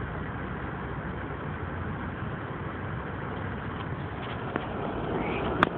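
A warm car engine idles at 650 to 700 RPM, giving a steady, even low hum that runs throughout, with a few faint clicks near the end.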